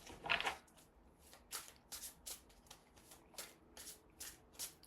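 Tarot cards shuffled by hand in a quiet room, a loud riffling burst at the start followed by a series of softer, evenly spaced card slaps and flicks.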